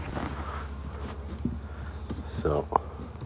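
Honey bees buzz around an apiary hive while a beekeeper replaces the top cover, a steady insect hum running under close, quiet speech.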